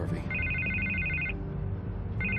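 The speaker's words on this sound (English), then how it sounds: "I can't get the phone to stop ringing" A telephone in Batman: The Telltale Series rings in repeated electronic trills with a short pause between bursts, over a low game background hum.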